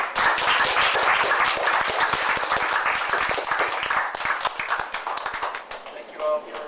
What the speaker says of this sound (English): I think we should end this day by just giving ourselves an applause.